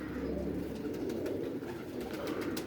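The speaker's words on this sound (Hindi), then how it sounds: "बहुत बड़ा कबूतर है ये" Steady low cooing from a large Rampuri pigeon, continuous and close, with a soft rolling murmur and no talking.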